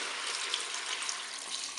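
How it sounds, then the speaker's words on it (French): Water poured into a Cookeo pressure cooker, a steady, bright splashing stream, close and even from start to finish. "Je vais ajouter l'eau."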